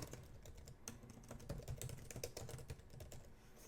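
A computer keyboard clatters with quick, steady typing. Rapid key clicks sound close but faint, with no talk.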